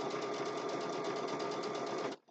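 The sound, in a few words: sewing machine stitching a Christmas table runner block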